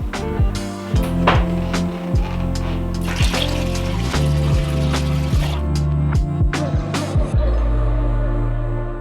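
Water pours from a jug onto the exposed roots of imported anthurium and philodendron plants, a continuous splashing trickle with scattered clicks and knocks close by, with no speech.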